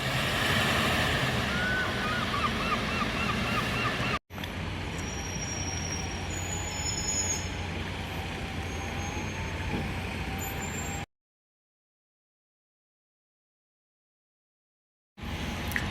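A bus pulls through a stop in Gloucester. Its steady, fairly close engine rumble comes with a hiss like an air brake, breaks briefly, continues, then drops to silence before returning faintly at the end.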